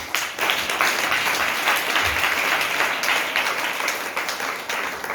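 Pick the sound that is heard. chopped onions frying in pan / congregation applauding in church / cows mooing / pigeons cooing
congregation applauding in church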